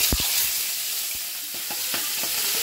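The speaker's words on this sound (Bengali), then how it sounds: "তেলটা গরম হয়ে গেছে, এবার ভেজে নেব আমি মাছগুলো" Fish rubbed with salt and turmeric fry in hot oil, giving a loud, constant hiss and sizzle with a few sharp crackles and spatters, close up and with no talking.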